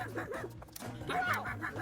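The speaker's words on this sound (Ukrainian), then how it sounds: "Бо ця собака тебе сожре." A dog in a Roblox prison-escape video game gives a few short barks and yips, close and fairly quiet, mixed with faint game sounds and a little laughter.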